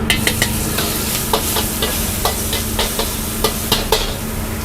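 Chili, garlic, black pepper and kaffir lime leaves stir-fried for Thai black-pepper noodles with egg, a steady loud sizzle broken by repeated sharp scrapes and clacks of the spatula, no voices.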